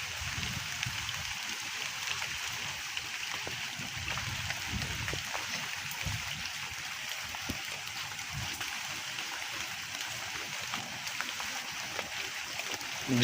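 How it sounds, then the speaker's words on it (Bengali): Steady rain falls on a flooded street while floodwater flows along it, a continuous wash of watery noise at even loudness throughout, with no voices. "সারাদিন ধরে বৃষ্টি।"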